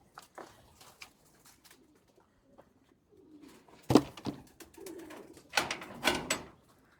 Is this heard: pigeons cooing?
yes